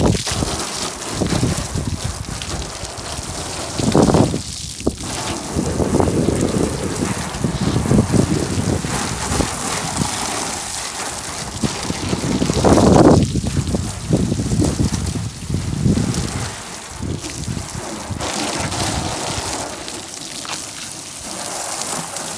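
A hose sprays water over a car parked on a road, giving a steady hissing splash with surges and dips in loudness throughout, close to the listener.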